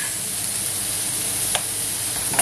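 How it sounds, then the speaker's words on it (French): Mushrooms and Jerusalem artichokes fry in a pan with a steady, close sizzle and hiss, while two brief scraping clicks from stirring mark the latter half. "on va remuer jusqu'à ce que les champignons soient cuits"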